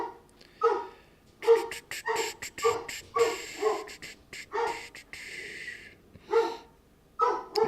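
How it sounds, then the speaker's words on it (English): Several dogs indoors bark, yip and whimper in irregular bursts, fairly close, with short pauses between outbursts and some breathy panting. "I don't know what the heck my dogs are freaking out about"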